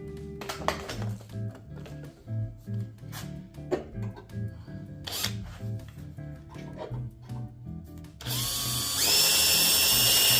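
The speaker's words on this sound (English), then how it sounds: "I'll try to drill a regular hole because I do have a small drill that'll fit there but doesn't have reverse." Small drill without reverse boring into a broken bolt on a Miata, heard as repeated short whirring bursts with pauses, then a louder continuous high whine at the end; no talking.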